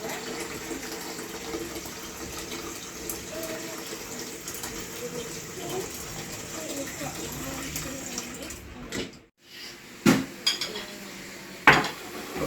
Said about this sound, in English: Just putting water in here.